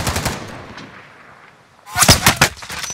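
Machine gun fire in Call of Duty Modern Warfare Warzone Payload mode, loud and close. A burst of rapid shots is heard, a brief lull follows, and then another hard rattling volley.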